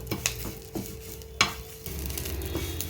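Leaves dry-roasted in a pan with no oil until crisp, a soft crackling sizzle broken by several sharp scrapes and knocks of a stirring utensil against the pan, close and alone.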